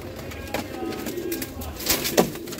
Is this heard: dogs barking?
no